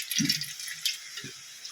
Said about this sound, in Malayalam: ഇതിൻ്റെ മുകളിലേക്ക് തുള്ളി വെള്ളം